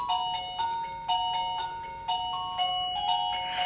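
A classroom doorbell chime plays a bright multi-note melody of ringing electronic tones, rising and falling in a repeating pattern, clear and alone.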